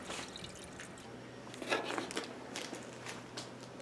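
Water drips and splashes softly as washed clothes (socks, a dish towel, underwear, a t-shirt) are wrung out by hand inside a Roadtrek camper van, a quiet scatter of irregular drips and squishes with no voices.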